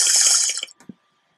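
Running water pours briefly into a bottle being refilled in the video game Minecraft DayZ, then cuts off with a couple of small drips and a soft plunk.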